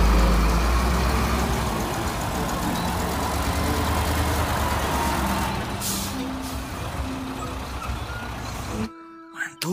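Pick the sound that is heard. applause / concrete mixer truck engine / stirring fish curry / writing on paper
concrete mixer truck engine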